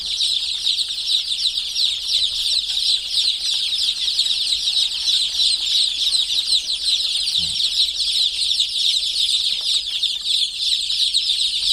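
A dense, continuous chorus of high-pitched chick peeping, many birds close together calling nonstop.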